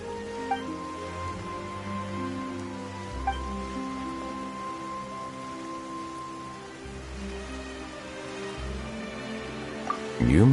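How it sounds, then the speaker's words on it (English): Rain falling in Genshin Impact's Fontaine region: a soft, even hiss of rainfall under calm game music, with a few faint drip accents and a brighter burst at the very end. "Why is it raining all of a sudden?"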